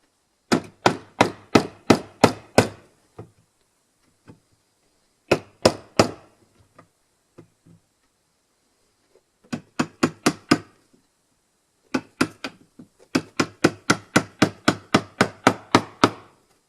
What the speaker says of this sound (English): going to go at it with a chisel instead